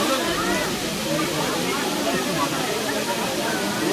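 Akasha Ganga water at Tirumala pours in a steady, loud rushing wash, with a crowd's voices mixed into it.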